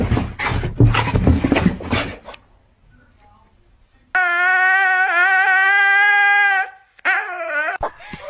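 A dog whines in a long, high, wavering whimper and then yips briefly, close and loud, after a stretch of human talking and a quiet pause.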